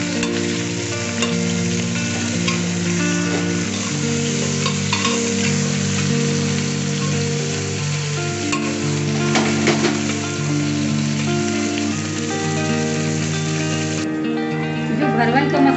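Stuffed eggplant (bharwa baingan) frying in a pan, with a loud, steady sizzle and scraping strokes of stirring throughout, close up, while a voice talks over it.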